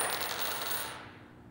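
Two quarter coins fall from a hand's fingertips during a coin trick, giving one bright metallic clatter that rings out and fades over about a second, with nothing else heard.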